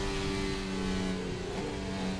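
An F1 car engine screams at full throttle in F1 2025 at the British Grand Prix, a steady, loud, high-revving drone holding pitch throughout with no talk.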